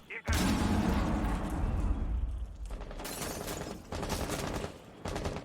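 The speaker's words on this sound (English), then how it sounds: "Like another nade came out, but it wasn't able to pick up anybody, and Horn took a bit of damage." Grenade blast and gunfire in a competitive team shooter match, heard as a loud, dense burst of explosive rattling that continues in sustained crackling volleys with brief dips, close and harsh throughout.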